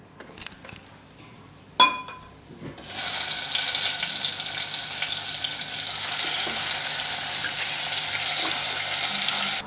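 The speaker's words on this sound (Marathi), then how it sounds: "आता याला आपण फोडणीला देऊया." After a few quiet clicks and a sharp clatter, a fish masala mixture hits hot oil for tempering and erupts into a loud, steady sizzle that continues unbroken to the end.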